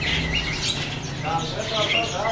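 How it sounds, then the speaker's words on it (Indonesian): Kutilang emas bird in a shop cage at a bird kiosk, trilling high chirps in bursts at the start and end, close by, with a voice murmuring in the background. "Ready juga burung kutilang emas nih."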